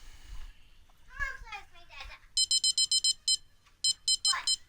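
Electronic bite alarm on a fishing rod beeping in a rapid run of short, loud, high tones, then a second shorter burst, with people talking nearby beforehand.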